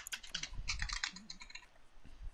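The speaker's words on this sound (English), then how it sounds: "No, I was typing." Quick bursts of keyboard typing close by, rapid clustered keystrokes for about a second and a half, then a few scattered taps, fairly quiet with no talking.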